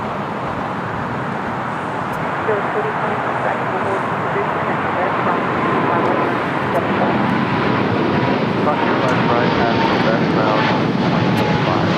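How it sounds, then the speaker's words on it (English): A China Airlines Cargo Boeing 777 takes off from LAX with a loud, sustained engine roar that swells slightly and continues steadily, with voices talking faintly underneath. "This is China Airlines Cargo 5137 taking off to Taipei on a 777"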